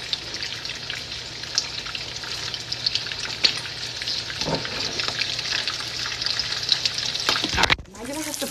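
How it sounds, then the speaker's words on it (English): Shrimp frying in a pan for a shrimp parm, a steady dense sizzle and crackle running throughout at close range, with brief clatters and a speaking voice partway through. "I'm too busy frying my shrimp."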